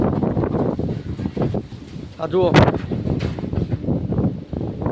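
A heavy windstorm with rain in Gujarat roars as a steady broadband rush, with gusts and a brief sharp clatter midway, while someone talks over it throughout.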